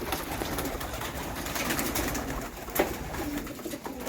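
Pigeons cooing steadily inside a pigeon loft, soft throaty calls layered over constant rustling and flutter, with no talking.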